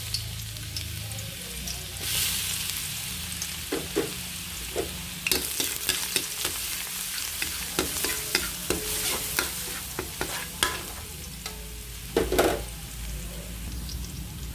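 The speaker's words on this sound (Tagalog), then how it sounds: "Ilagay ko na ang bawang." Garlic sautés in hot oil in a frying pan, a loud continuous sizzle with repeated clicks and scrapes of a spatula stirring near the mic.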